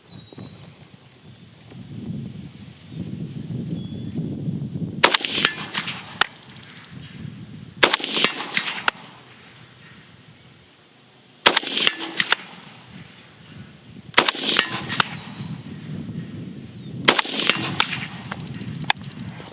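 Five loud AK rifle shots ring out one at a time at a 100-yard target, spaced a few seconds apart, each a sharp crack with a brief ringing tail over quiet outdoor background.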